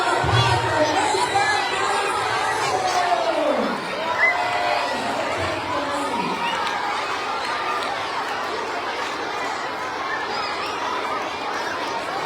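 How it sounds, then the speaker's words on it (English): Children at a school assembly cheer and shout as a crowd, a loud, continuous roar of young voices with chatter and some laughter, rising calls sliding down in pitch, steady throughout. "Let's give another round of applause"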